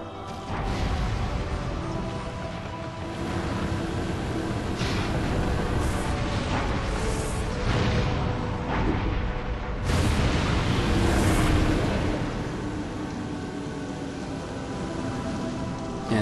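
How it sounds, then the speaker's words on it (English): The impact crater in the Metroid Prime video game collapses with a sustained, loud roar of rumbling and crashing debris. Heavier bursts rise out of the din, and no one speaks. "it definitely looks like the impact crater has been destroyed"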